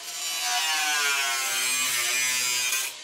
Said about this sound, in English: cut away the metal on the back here so that I can access the screws to mount the drive once it's in